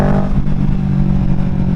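Kawasaki Ninja 650 motorcycle engine humming low and loud while riding, a steady rumble with slight rev changes over wind noise.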